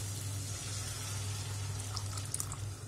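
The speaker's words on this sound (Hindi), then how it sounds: "और अब इसमें हम डालेंगे 1/2 कप पानी," Half a cup of water pours into a pan of tomato curry for sev tamatar sabzi, giving a soft, steady splashing hiss over a low background hum.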